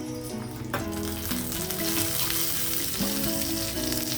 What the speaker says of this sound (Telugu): ఇదిగో వెల్లుల్లి, జీలకర్ర, ఆవాలు, ఎండుమిర్చి తాలింపు కోసం తీసుకున్నాను.